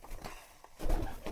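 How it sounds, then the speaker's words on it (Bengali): Pet pigeons kept at home coo softly in short low murmurs around feeding time, a brief, close, moderately quiet burst with no talk over it. "আর কবুতরগুলো দেখেন আর একটু খাবার দিয়ে দিই"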